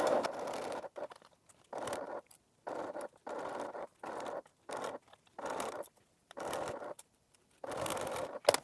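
Sewing machine stitching a quarter-inch seam joining a bag's lining and main body, running in repeated short bursts of about half a second with brief pauses between them, close and fairly quiet.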